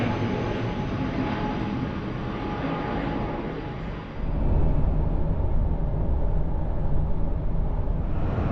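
Railway train running close by, a steady loud broadband rumble and rolling roar throughout, growing heavier and lower about halfway through, with no voices.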